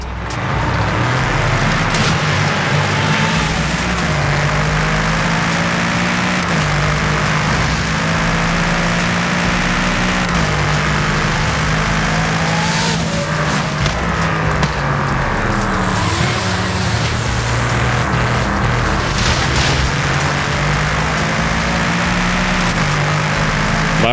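A Mercedes car engine idles in Forza Horizon 5, a steady low hum with slowly shifting tones, loud and continuous, with traffic noise from other cars around it.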